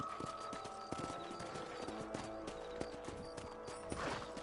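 Horse hooves clip-clop in a quick, regular rhythm while riding through Red Dead Redemption, close and clear over a light outdoor game backdrop, with a brief whinny-like sound near the end.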